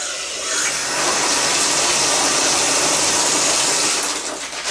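Water runs steadily onto shredded bedding in a homemade worm bin, a continuous broadband gush that holds for several seconds at close range and tapers off at the end, with no one talking.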